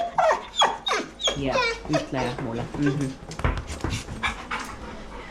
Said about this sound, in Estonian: aga mulle ei meeldi sellised vinguvad loomad